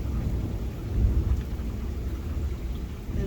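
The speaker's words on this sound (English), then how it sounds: "In the middle of another nasty storm." Steady heavy rain hisses through a nighttime thunderstorm while deep thunder rumbles low and continuously underneath, with no voices.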